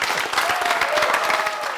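Lively audience applause at a televised comedy show, dense rapid clapping from a crowd, close and steady, with faint voices mixed underneath.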